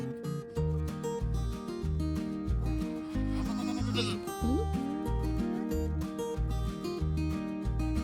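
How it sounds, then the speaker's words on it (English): Pregnant goats kept on a front porch, wearing little coats, bleat close by in a repeated run of loud, wavering calls, with a voice occasionally heard between them. "The girls are still our porch goats and live here on the front porch in their little coats."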